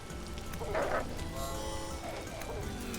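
Steady rain falls in the video game Vintage Story, a constant close patter filling the whole stretch with small swells and no talking.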